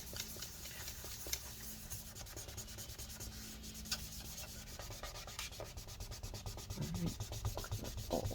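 Faint, steady rubbing and scrubbing runs on and on while residue is cleaned from the battery area inside a 2012 15-inch Retina MacBook Pro A1398, the strokes slightly firmer toward the end.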